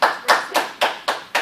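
Students in a math class clap in a steady rhythm, six sharp group claps spaced about a quarter second apart, loud and close with no talk.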